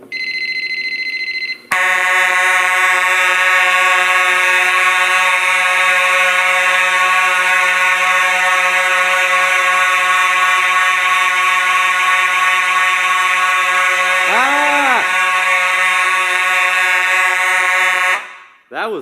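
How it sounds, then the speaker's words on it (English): A building fire alarm system set off with the fire drill button on an annunciator blares a loud, steady electronic horn tone for about sixteen seconds before cutting off abruptly. "I'm gonna use the fire drill button on the annunciator to do it."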